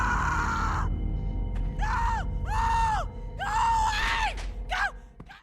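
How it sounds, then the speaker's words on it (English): A woman screams in horror in Telltale's The Walking Dead video game, several long rising and falling wails over a low rumbling game soundtrack, loud and close. "they're interrupted by a horrifying scream"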